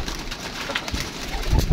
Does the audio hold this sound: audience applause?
no